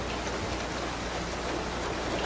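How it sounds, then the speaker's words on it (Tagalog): Steady, dense hiss of rain falling without pause, even and fairly loud throughout, with no voices. "Pabilog po, palalaki kasi ang patak ng ulan ngayon"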